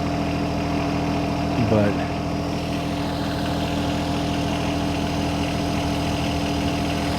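John Deere 1025R compact tractor engine running steadily while tilling a garden, a constant low idle-like hum throughout with a brief rise near the start, and a voice briefly over it.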